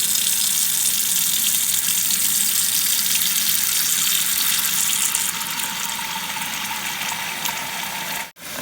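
Water pouring steadily from a tap into a pot for boiling dried rice noodles (khanom jeen), a loud, continuous rushing splash that runs throughout and then cuts off briefly near the end.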